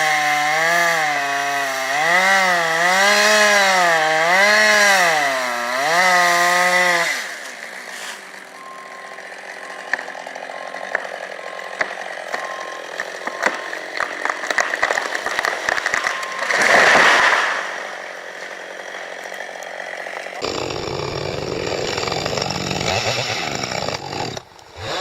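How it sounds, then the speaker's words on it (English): A chainsaw biting into dense tree wood in a forest, the engine screaming and revving in wavering pitch, then dropping to a rougher cutting drone with crackling bursts and another loud surge near the end. "The sharp chainsaw screamed, its blade biting deep into the dense wood"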